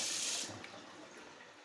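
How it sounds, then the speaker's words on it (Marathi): Tap water gushes briefly as vegetables for pav bhaji are rinsed under a kitchen faucet. The hissing splash is strongest at first and then drops to a faint trickle. "स्वच्छ भाज्या धुवून घेतल्या नळाखाली"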